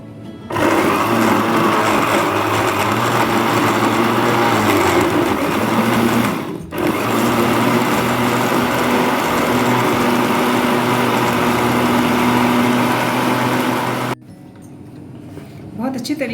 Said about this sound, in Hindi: बहुत अच्छी तरीके से हमने इसको ब्लेंड कर लिया है